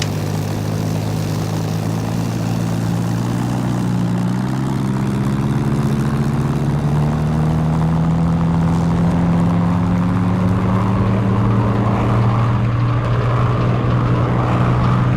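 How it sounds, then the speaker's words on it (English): Spitfire piston engine droning steadily through a takeoff run in Flight Simulator X, a loud continuous propeller roar whose low tone rises gradually as power builds. "So let's take the Spitfire up and see what she's like."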